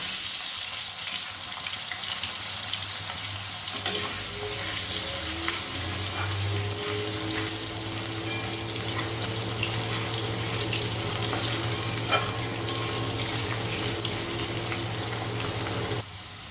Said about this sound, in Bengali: এক থেকে দেড় মিনিটের মতন ভালো করে নাড়াচাড়া করে আলুগুলোকে ভেজে নিয়েছি